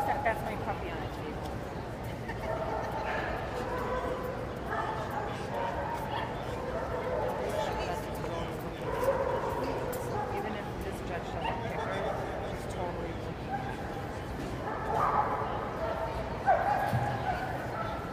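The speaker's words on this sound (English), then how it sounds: "that's my puppy on a table" A puppy on a table at a dog show yips, whimpers and gives small barks in scattered bursts, close by, amid ongoing talk from people nearby.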